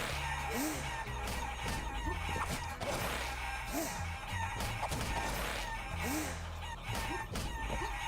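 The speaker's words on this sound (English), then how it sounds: "I love how all of his chickens are in levels of distress right now." Agitated chickens in the video game Guacamelee! cluck and squawk repeatedly over a steady bed of game music and noise, with occasional rooster-like calls.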